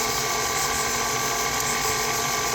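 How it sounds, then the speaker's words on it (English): Stand mixer on low speed creaming butter and sugar, a steady close mechanical whir with a rattling gear-like grind that runs continuously with no talk. "right now in my mixer is my butter and my sugar, and I'm just gonna go ahead and start mixing this on low"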